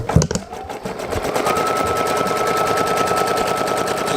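Computerized embroidery machine stitching a placement outline on fabric, a steady rapid mechanical whirring with a continuous needle-strike chatter, close and alone after a few clunks at the start.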